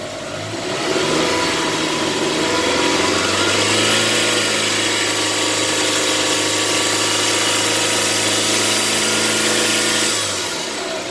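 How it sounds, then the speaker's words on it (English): A car engine revs up and holds a steady, fast idle for about ten seconds, a sustained mid-pitched hum with no one talking. "Right, we need to go on to a fast idle, so I'll just bring the revs up."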